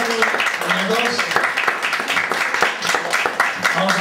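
Audience applause at a café poetry recital, a burst of clapping from a small crowd that carries on for a few seconds with voices and chatter mixed in.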